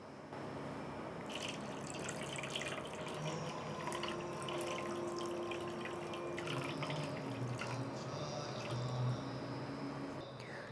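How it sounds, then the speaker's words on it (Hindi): Cold water poured into ghee while making an ayurvedic skin cream: a soft, steady trickle and splash of running water with faint drips, continuous and fairly quiet, with no voices. "और इसमें अब हम ठंडा पानी डालेंगे"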